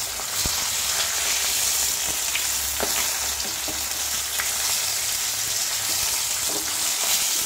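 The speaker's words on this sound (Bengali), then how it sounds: "দিয়ে দেখছি যে মাছটা কতদূর ভাজা হয়েছে।" Hot oil sizzles steadily in a pan as fish fries, a constant crackling hiss with occasional sharper pops, close and uninterrupted.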